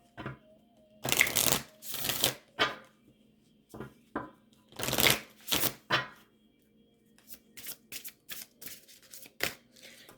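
Repeated bursts of a deck of cards being shuffled and riffled, several loud rustling passes separated by short pauses, close up, during a pick-a-card message reading with chocolate-themed cards.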